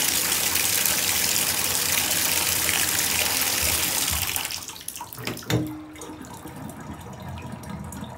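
Water drains from a bathtub with a push-style stopper: a steady, loud rushing wash that fades after a few seconds into a brief gurgle and quieter trickling.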